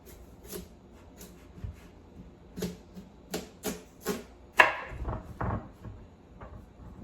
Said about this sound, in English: So the first one I'm going to slice is the honeydew melon.